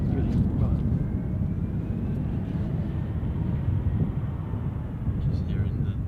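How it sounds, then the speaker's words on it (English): Airliner engines at Edinburgh Airport roaring at a steady, heavy low rumble as thrust builds while the jet lines up on the active runway, loud and continuous with faint speech at times. "Just hearing the thrust increasing as it positions itself on the active runway."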